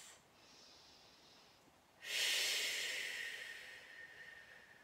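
Breathing during a lower-back yoga stretch: a soft inhale, then a louder, rushing exhale through the nose that trails off slowly, close and alone without speech.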